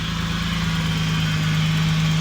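A turbocharged BMW E36 engine runs at a steady idle after a cold restart, a continuous close, even hum with a low droning tone and no change in revs.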